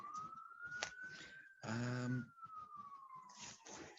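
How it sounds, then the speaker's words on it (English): Emergency vehicle sirens passing through a downtown area, a wailing tone sliding slowly up and down at moderate distance, mixed with traffic rumble and a short loud horn-like blast. "there's a number of sirens going by"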